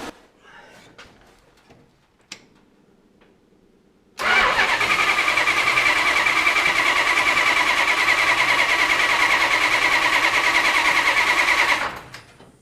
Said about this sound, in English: In fact, I'll go ahead and try to start it.